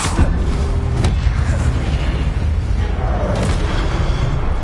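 Incendio fire spell in Hogwarts Legacy, a loud, dense blast of roaring flame that booms at the start and again midway, sustained as heavy rumbling noise throughout.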